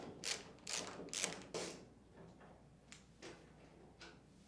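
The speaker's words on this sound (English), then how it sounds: "Using a Phillips head screwdriver, remove these two screws on the back of the washer." Faint clicks and ratcheting from a Phillips screwdriver working two screws out of the back panel of an LG or Kenmore front-load washer, four sharper clicks up front and a few softer ones after, with no talk.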